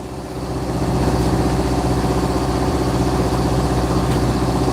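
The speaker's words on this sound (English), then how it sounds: "Turn up the RPMs to charge the batteries a little bit faster." A sailboat's inboard engine revs up to charge the batteries while anchored off Raja Ampat, Indonesia, a loud, close, steady throbbing drone that climbs during the first second and then holds even.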